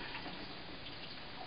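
Tap water runs steadily over canned beans being rinsed in a strainer, a continuous soft hiss of flowing water, close and even, with no speech.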